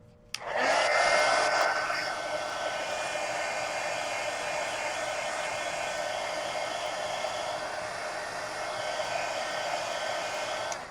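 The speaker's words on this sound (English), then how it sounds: "Let me go ahead and dry this real quick." A hair dryer blows steadily close by, drying a mixed media art journal page with an owl, switching on abruptly and running as a loud continuous whoosh for about ten seconds.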